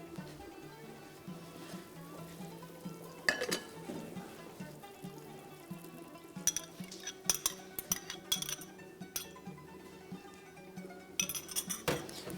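A spoon stirs soup in a pot, with scattered metallic clinks and scrapes against the pot in irregular bursts over a quiet background of soft liquid movement.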